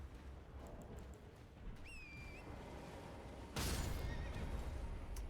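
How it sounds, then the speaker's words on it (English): A horse whinnies in a video game, a rising, wavering neigh of about half a second heard over steady game ambience, followed by a loud broadband burst. "Why did my horse just die?"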